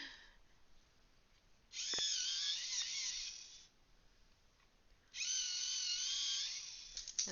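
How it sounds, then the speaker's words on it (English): A red coloured pencil is ground in a sharpener, two separate bursts of close whirring, scraping buzz each lasting about two seconds with quiet gaps between them. "Now I am going to sharpen this red."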